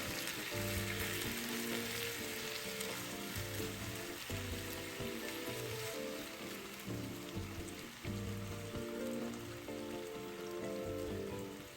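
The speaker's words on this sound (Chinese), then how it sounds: "然后再将鸡肉加进来，一起拌炒均匀" Chicken pieces sizzle and crackle loudly in a hot wok with soy sauce and caramelized rock sugar for taro three-cup chicken, a dense continuous frying hiss broken by regular scraping stirs, with no talking.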